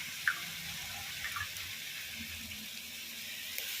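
Water poured into a cooking pot while making a Tamil-style dish, a soft steady liquid wash with a few small splashes and clinks, fairly close and quiet throughout.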